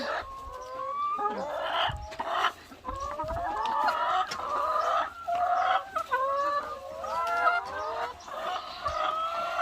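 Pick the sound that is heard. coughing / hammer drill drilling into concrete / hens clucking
hens clucking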